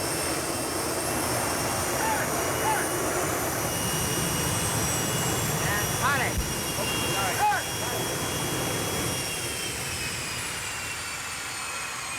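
Trailer-mounted jet engine fired up at close range, blasting kerosene exhaust in a steady, loud roar with a high whine running throughout; voices shout briefly over it.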